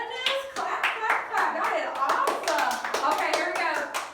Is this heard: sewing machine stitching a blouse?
no